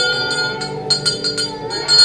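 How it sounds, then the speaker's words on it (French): A hand bell rung repeatedly in a Santa's workshop school play, Mother Christmas waking the elves; a quick series of bright, ringing strokes, fairly close, with no talking. "Mère Noël accompagnée de Betty les réveille au son de la cloche"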